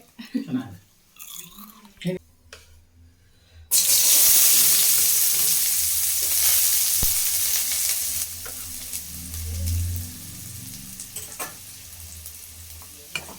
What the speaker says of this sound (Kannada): ಈ ಥರ ಈರುಳ್ಳಿ ಹಾಕಿ ಚೆನ್ನಾಗಿ ಫ್ರೈ ಮಾಡ್ಕೋಬೇಕು